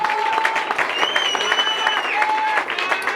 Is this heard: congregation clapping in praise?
yes